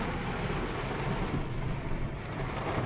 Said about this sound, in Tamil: மழை பாரு பெய்யுது.